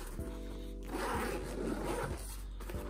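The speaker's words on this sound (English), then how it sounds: "Two double zipper." A double zipper on a folding camping table's carry bag is pulled open in a few quick, close rasping strokes, with soft rubbing of the bag fabric between them.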